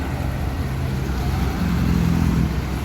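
Large buses passing on a road, a steady rumble of heavy engines and traffic noise that swells slightly midway, with faint voices in the background.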